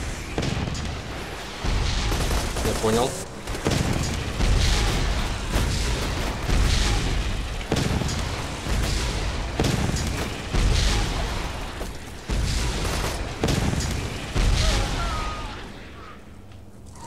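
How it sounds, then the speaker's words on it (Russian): Repeated booming explosions in the video game Borderlands 2 during a boss fight, heavy blasts and bursts rolling over dense combat noise, with a brief spoken remark partway through. "Это вот взрывы, да?"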